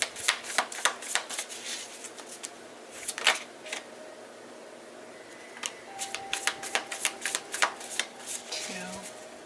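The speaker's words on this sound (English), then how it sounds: "When I'm shuffling, just sitting here shuffling, they come out." Tarot cards riffled and shuffled by hand in quick bursts of crisp flapping clicks, a pause in the middle, then another run of shuffling, with a voice talking softly underneath.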